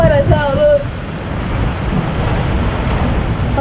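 Heavy rain pours steadily at the Haulover sandbar in Miami Beach during stormy, hurricane-like weather, a dense continuous wash that fills the whole clip, with a brief tonal sound near the start.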